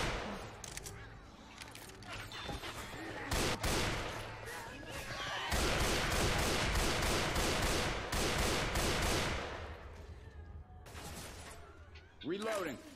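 Rapid G3 rifle fire in the zombie shooter Left 4 Dead 2, dense bursts of loud shots running through the middle stretch, with game action and chaotic effects around them.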